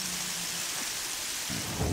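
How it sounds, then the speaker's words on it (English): Steady rain and low rumbling thunder from a stormy scene in the video game Horizon Zero Dawn, a continuous wash of rainfall with a deeper thunder roll swelling near the end, no voices. "Why is it so rainy?"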